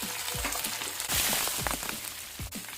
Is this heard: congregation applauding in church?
no